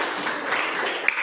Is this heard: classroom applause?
yes